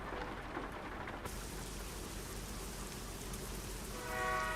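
Heavy rain in a racing video game makes a constant, dense hiss. Near the end a faint tonal hum rises beneath it.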